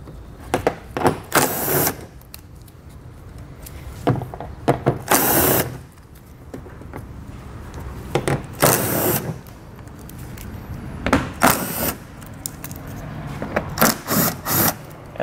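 Screws with 8mm heads come out of the trim on a 2020 Chrysler Voyager, with repeated bursts of power-driver whirring between short pauses and some handling noise nearby.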